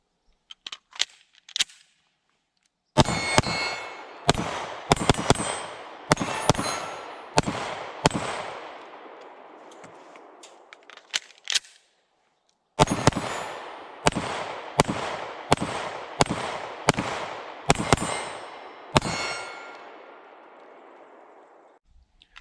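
A series of H&K VP9 pistol shots ring off steel targets about 15 yards away outdoors, sharp cracks each followed by a metallic clang, fired in two rapid strings separated by a pause.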